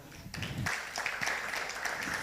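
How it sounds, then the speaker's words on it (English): An audience at an ICT growth conference and awards ceremony applauds a guest with a faint, steady patter of many hands clapping that sounds distant in the hall. "please help give a round of applause to Engineer Olushola Teniola"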